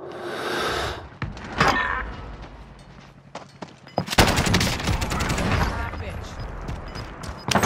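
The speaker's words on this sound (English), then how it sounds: "Taking enemy fire." Enemy gunfire in a battle-royale shooter game, with bursts of automatic and single shots, footsteps and movement sounds, loud and near, growing into sustained rapid firing in the second half under game noise.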